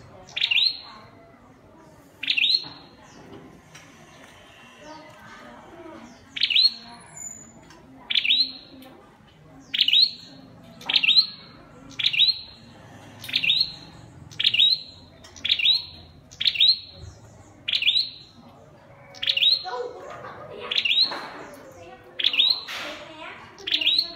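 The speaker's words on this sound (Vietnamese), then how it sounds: "Chim trong lồng nó hót quá không thì nó không dám bay vào lồng." A caged red-headed flowerpecker sings a long series of short, bright, high chirps in a steady, evenly spaced rhythm, close and clear over faint background noise, with no talking.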